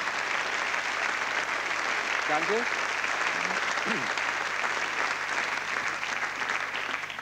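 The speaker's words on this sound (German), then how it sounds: "der Beifall war schon mal kurz zu hören." Steady, dense applause from a television sports studio audience fills the whole stretch loud and unbroken, with a brief spoken thanks over it.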